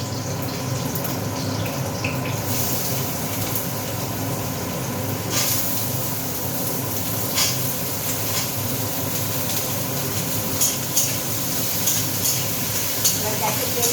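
Potatoes and three green chillies frying in a pan over a gas flame, a steady continuous sizzle with occasional clatter of stirring, close and moderately loud throughout.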